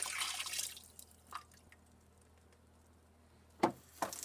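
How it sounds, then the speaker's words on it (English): Leftover sandy water splashes briefly into a dump bucket in a sink, then a few scattered drips fall in a quiet room. "Leftover sandy water can get put into the dump bucket in the sink"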